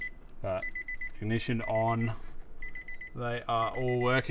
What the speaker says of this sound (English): Sorry about the beeping as well.